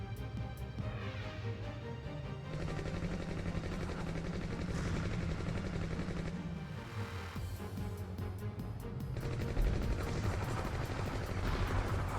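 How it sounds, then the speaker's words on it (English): Gunfire in the naval action game SeaBlade, steady bursts of shots layered over a constant engine drone and game music, fairly loud throughout with no voices. "Where are those shots coming from?"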